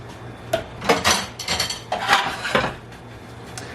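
A metal lid goes onto a pot of simmering sauce for pasta romesco with several sharp clanks and rattles, close and fairly loud, spread over a few seconds.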